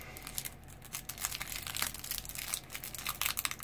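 A foil pack of collectible shinies is torn open by hand, producing close, crisp crinkling and rustling bursts that continue irregularly and fairly quietly throughout.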